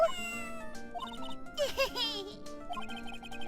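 A cartoonish cat meows several times in the Phoenix Wright video game, short bright calls over a light jingly music bed with a small chime-like tinkle.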